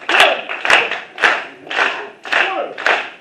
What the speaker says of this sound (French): Ah oui, tout le monde applaudit